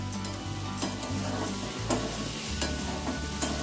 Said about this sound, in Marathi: आता यामध्ये आम्ही आलं लसूण मिरचीचा जो ठेचा आहे तो सुद्धा आपण यामध्ये ॲड केला आहे आणि चांगला असा आता ढवळून घ्यायचा आहे।